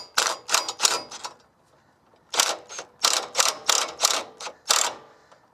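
A ratchet wrench snugging a sway bar bushing bracket bolt, sounding as quick bursts of sharp ratcheting clicks in two groups separated by a pause, close and fairly loud with no talking.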